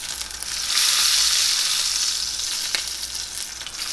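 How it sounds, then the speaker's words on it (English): New York strip steak fat renders in a hot pan with a loud, steady sizzle that swells after the first half-second and holds throughout, with a faint crackle near the end. "You can start rendering some of this fat on the side"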